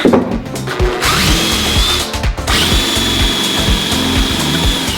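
A power drill whines steadily at close range, its motor pitch dipping briefly as the bit bites into wood on a stair railing build, loud and continuous throughout.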